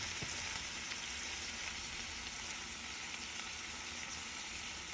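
Fish and eggs frying together in a single pan, a loud, dense, continuous sizzle with no breaks and no talking.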